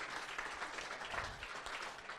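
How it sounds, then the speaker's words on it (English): Audience applause for Patrick, a nominee accepting a post at a meeting, heard as a steady, fairly faint wash of clapping with some room noise. "Round of applause for Patrick"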